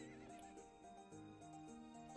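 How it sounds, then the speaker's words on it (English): A horse neighs and whinnies in the video game To the Moon, set against soft sustained game music with a few faint hoof-like clip-clops. "I wonder if Neil got off that horse yet."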